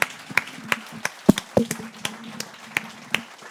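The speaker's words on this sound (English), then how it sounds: "Give it a round of applause for our panelists." Scattered claps from a small audience applauding panelists at a no-code adoption panel event, sparse and uneven sharp hand strikes over a low room hum.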